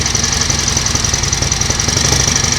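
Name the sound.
1938 Matchless 990cc Model X motorcycle engine running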